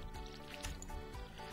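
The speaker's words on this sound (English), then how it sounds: "Let's make sure we water these five." Crops are watered with a watering can in the farming game Stardew Valley, giving a brief soft splashing, trickling sound over a steady game background.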